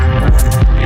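A heavy FM neuro bass built in the Serum synth plays loud and dense for under a second, with throbbing low-end growl and two bright wobbling bursts in the middle.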